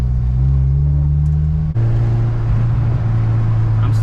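A tuned Mazdaspeed6 running 42 psi of boost drives along, its engine giving a steady low rumble with strong low harmonics that shift to a new pitch partway through, loud and continuous inside the car.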